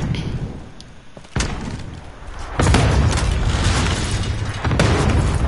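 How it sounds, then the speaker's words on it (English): Cluster strike explosions pounding a house in Call of Duty, a series of heavy booming blasts that land in quick succession and get louder, leaving a sustained rumble. "They really cluster strike the freaking house."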